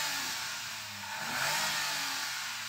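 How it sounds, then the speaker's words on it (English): A Toyota Aygo X three-cylinder engine revs up steadily from a low drone, its pitch rising and holding, heard from inside the car. "So I'm going to rev up this 3-cylinder in the Aygo X."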